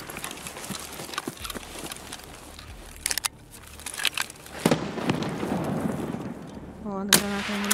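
Sharp gunshot cracks in Escape from Tarkov, a few isolated bursts spread through the clip, with a voice speaking over a busy, noisy background.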